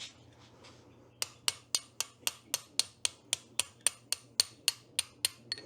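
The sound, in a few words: hammer striking punch to drive out ramshaft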